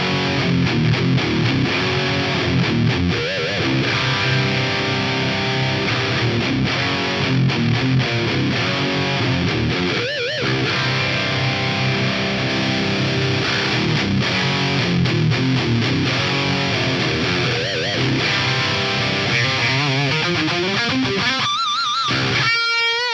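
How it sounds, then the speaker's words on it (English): An electric guitar plays a dirty, distorted tone through a wide stereo chorus effect from Axe-Fx III recreations of classic rack gear, a continuous sustained passage of chords and notes with no talking. "I'll kick it in and you'll hear this super wide sound with it because one side of the stereo spectrum is phase reverse"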